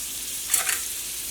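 Butter sizzles in a hot pan for egg parotta, a soft, steady close hiss with a brief brighter crackle in the middle.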